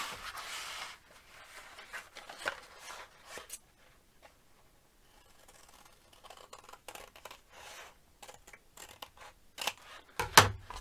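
Scissors snip through craft material for a Thanksgiving turkey decoration, close and quiet, in a few scattered cuts with soft handling rustles between them.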